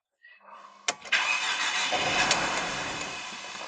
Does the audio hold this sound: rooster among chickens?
no